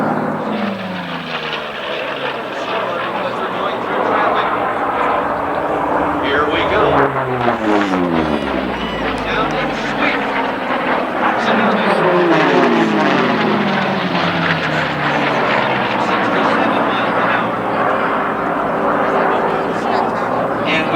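Merlin-engined unlimited racing planes at the 1990 Reno air races roar past in repeated loud passes, their propeller drone rising and falling with a clear Doppler sweep while a commentator talks throughout.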